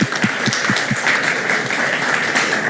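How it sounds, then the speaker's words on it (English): Applause from the audience at a Black Sea security forum, a few distinct claps rising at the start and blending into a steady mid-distance patter that holds to the end. "and applaud you."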